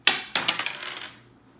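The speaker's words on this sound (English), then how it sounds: "So, Anthony, let's see how the dice falls for you." Dice rolled onto a hard surface: two sharp clacks followed by a quick run of smaller bouncing clicks that rattle to a stop, close and clear.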